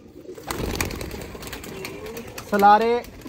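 Golden pigeons cooing and calling near a person speaking in Hindi-Urdu, with a burst of bird calls late in the moment standing out over the talk.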